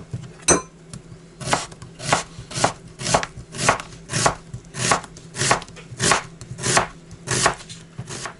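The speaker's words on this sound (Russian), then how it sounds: "Почистили две луковицы, теперь их мелко режем." Steady, evenly spaced knife strokes chopping onions on a board, close and crisp, about one cut every half second with no talking.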